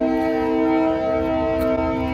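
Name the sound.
TranzAlpine train horn sounding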